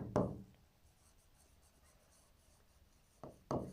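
A pen writing a number on paper during a maths lesson gives a brief scratchy stroke at the start, then two more short scribbles near the end, close and quiet with no talk.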